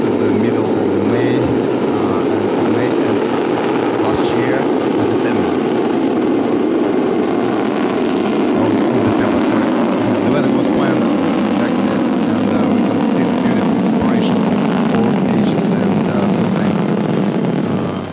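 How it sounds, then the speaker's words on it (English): Soyuz rocket liftoff: a loud, unbroken, rumbling roar that holds steady for a long stretch, with someone speaking over it. "And this is takeoff of the Soyuz."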